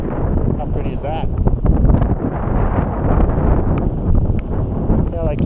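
Strong wind gusting across an open mountainside on a cold day during a cycling trip in central Utah, roaring steadily through the clip with a faint voice now and then underneath.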